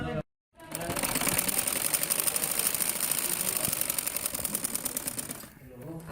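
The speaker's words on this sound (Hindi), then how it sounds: "अब इसी तरह मैं चारों तरफ दुपट्टे के ये सिलाई लगाऊंगी और इसको कंप्लीट करूंगी।" A sewing machine runs steadily while stitching lace onto the edge of a dupatta, its rapid mechanical whir loud and continuous after a brief pause at the start, with no talk over it.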